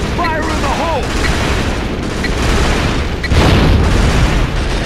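A grenade detonates in the PSP shooter Killzone: Liberation, a loud booming blast with rumbling debris amid continuous gunfire and battle noise, while a voice shouts over the din.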